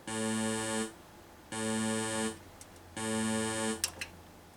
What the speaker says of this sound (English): And then there's this one, which is a buzzer tone.